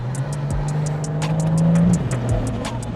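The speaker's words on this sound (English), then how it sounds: "As you can see, I'm changing gears, downshift." A Ford FG XR6 Turbo downshifts with paddle shifters, its engine drone rising then dropping sharply at each gear change amid steady road and wind noise from inside the car, loud and close, with no talking.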